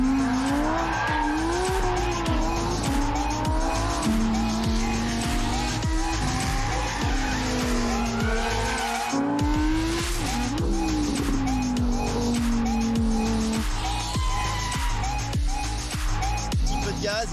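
A Lamborghini Huracán Tecnica with V10 engine and four-wheel steering revs and accelerates hard, tires squealing in long wavering shrieks over a loud engine roar, with a short break near the middle.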